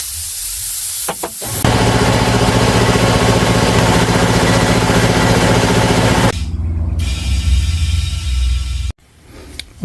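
Compressed air hisses steadily into the tire of a 1998 Yamaha XJR 1200 motorcycle, a loud, close, continuous rush lasting several seconds, then a brief pause, a second burst and a sharp cutoff.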